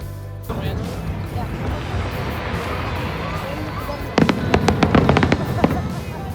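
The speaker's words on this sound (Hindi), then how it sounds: "फायरवर्क्स" New Year's fireworks over Bayside Pier in Miami: a broad roar of a watching crowd, then a rapid cluster of loud, sharp bursts and crackles in the last couple of seconds.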